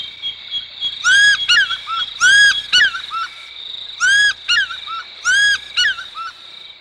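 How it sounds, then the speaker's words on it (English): An African fish eagle on a Great Lakes shore repeatedly gives loud, ringing, yelping calls in several bursts, set against a constant high insect drone. "The fish eagle."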